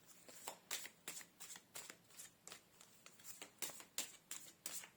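Tarot cards being shuffled for a reading, a run of quick crisp riffling bursts in a steady repeating rhythm, close and fairly quiet, with no talking.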